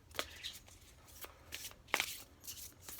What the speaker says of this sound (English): it's hard for me to shuffle the cards this way, so I do it this way